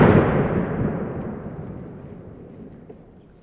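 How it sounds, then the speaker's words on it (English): A .410 TriStar Viper G2 shotgun fires a Remington slug into a meat target at a range. One sharp, loud report trails off in a long, fading outdoor echo. "shoot the Foster slug, the Remington slug, into the other meat target"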